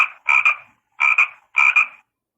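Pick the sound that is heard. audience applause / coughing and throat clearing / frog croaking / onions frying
frog croaking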